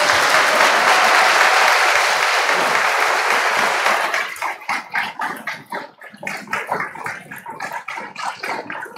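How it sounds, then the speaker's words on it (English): An audience at a bishop's ordination applauds the bishop-elect, dense sustained clapping for about four seconds that thins into scattered, fading claps. "give him a warm round of applause"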